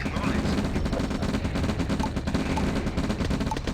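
Rapid machine gun fire in the Command & Conquer game Flame Dancers: Genesis, dense bursts of rattling shots running continuously, loud, with game noise and a voice mixed in.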